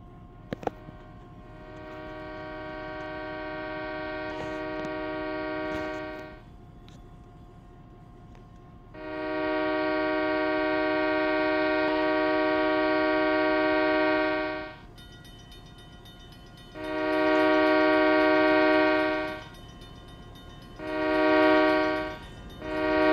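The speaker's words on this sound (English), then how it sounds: "Here it comes. Looks like it has a DPU too." A model train pulling empty coal cars with a DPU unit approaches while its horn sounds: two long, loud blasts, then two shorter ones near the end, over a low rolling rumble.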